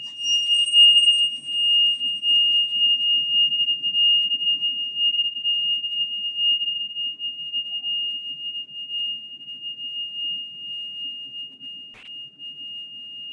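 Two steady pure electronic tones sound together in a physics demonstration, their interference making the loudness swell and fade in a slow wavering beat, held for several seconds with a faint low hum beneath and no talking.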